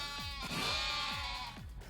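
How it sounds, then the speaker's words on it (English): Cartoonish sheep bleats from a sleep-themed minigame in Yakuza: Like a Dragon, several wavering bleats overlapping close together over a steady game music bed, with no talking. "this is a mini game where I stave off sheep in the hopes of sleep"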